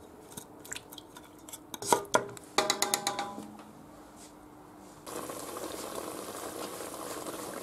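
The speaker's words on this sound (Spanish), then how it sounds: "Ya está hirviendo" Rabbit in garlic sauce in a pan, starting with a few clinks and taps of a utensil against the pan, then settling into a steady, quiet bubbling boil.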